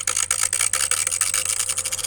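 Faulty windscreen wiper motor on an 80 series Land Cruiser, a harsh scraping, rasping grind with a rapid uneven rhythm, close and alone.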